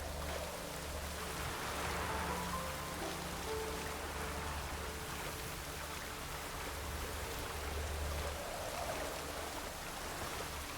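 Steady rain hissing down in the Witcher 3 game world, a dense, even wash of drops that holds unbroken for the whole stretch with a low rumbling hum beneath it and no voices.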